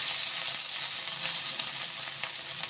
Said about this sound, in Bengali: কড়াইতে সাদা তেল দিয়ে ভেজে নিচ্ছি